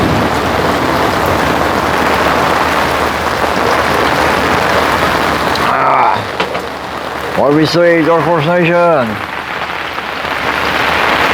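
Heavy rain pours down beside an outdoor pool as a dense, steady hiss; midway it thins briefly and someone speaks over it.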